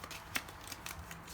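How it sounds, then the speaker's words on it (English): Flamme Rouge board game cards being shuffled into a deck, heard as a brief, quiet scatter of soft riffling and papery taps with no voices. "I'm going to do a little cursory shuffle here"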